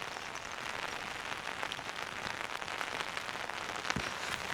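Steady rain falling outdoors during a brisk walk, a dense even hiss of drops hitting surfaces that holds at a constant level throughout, with no voices.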